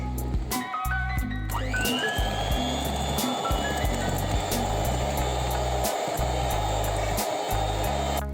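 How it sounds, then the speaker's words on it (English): An electric mixer whisks wet cake batter ingredients on low speed, giving a steady, loud motor whir that runs throughout with a rising whine early on, no talking. "And on a low speed, we're going to whisk."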